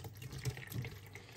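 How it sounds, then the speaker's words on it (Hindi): Water is poured over minced meat in a bowl to wash it, giving a close, steady splashing gush that lasts throughout with a couple of brief surges, and no talking. "दूसरा पानी मैंने डाला है अभी इसमें"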